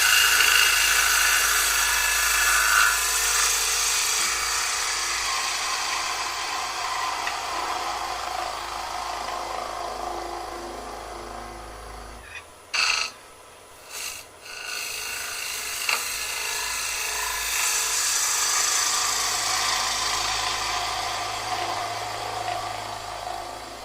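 A bowl gouge cuts into a wooden bowl spinning on a lathe, giving a continuous rasping, scraping hiss that breaks off briefly midway with a few knocks before the cut resumes.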